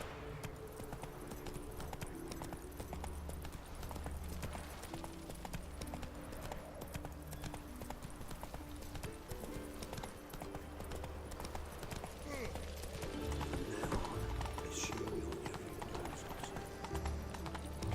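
Rhythmic clip-clopping hooves of the horse Roach in The Witcher 3 game run steadily throughout at moderate level, with faint background game sounds and a voice talking over parts of it.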